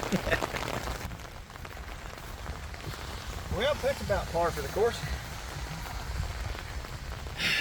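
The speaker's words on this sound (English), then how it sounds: "of course that's rain, because why wouldn't it be raining while I'm trying to work on the truck?" Steady rain patters on surfaces around a truck being worked on, a constant close hiss of drops while someone speaks briefly over it.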